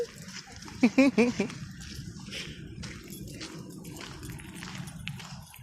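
A puppy met on a morning walk gives a quick burst of short, close yips and whimpers near the start, then outdoor ambience and a voice talking carry on.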